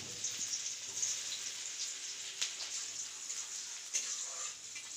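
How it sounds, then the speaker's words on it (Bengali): Onion and black cumin seeds fry in hot oil in a wok with a steady, bright sizzle and occasional pops and spits. The sound is close and continuous, with no talking. "কড়াইয়ে তেলটা গরম হয়ে গেলে দিয়ে দিলাম কালো জিরে আর অল্প করে পেঁয়াজ।"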